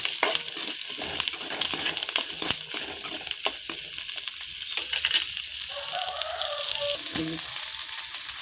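Shallots, curry leaves and garlic fry in a pan with a steady, close sizzle, broken by scraping stirs and a few sharper pops.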